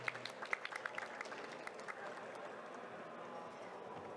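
Audience applause follows a startup pitch presentation at the COMEUP 2024 Rookie League, a brief burst of claps that quickly thins and fades into quiet room tone, fairly faint and distant.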